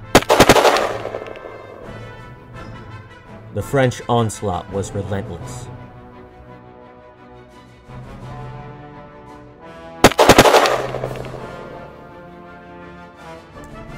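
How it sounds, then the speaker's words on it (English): Napoleonic soldiers' musket volleys in battle crackle in two loud, sharp bursts, one at the start and one near the end, with a narrator speaking in between and over the gunfire. "Intense fighting ensued, with Napoleon's soldiers releasing volley after volley of gunfire."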